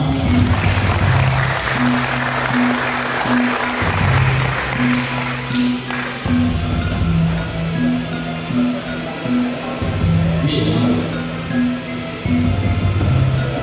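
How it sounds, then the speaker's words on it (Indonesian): Audience applause at a community gathering, continuous and loud, with a steady low musical tone running beneath it throughout. "Mohon aplausnya bersama."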